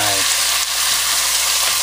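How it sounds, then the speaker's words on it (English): A piece of pork drops into hot oil in a cast iron pan and sizzles at once, a loud, dense, crackling fry held close for a couple of seconds. "we're going to test if our oil is hot enough just by dropping 1 little piece of meat in there"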